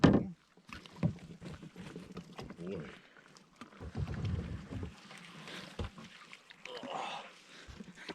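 Canoe moving down the Partridge River through a fallen tree: scattered knocks, splashes and rustles of paddle and branches, faint and irregular, with people speaking now and then over quiet outdoor background.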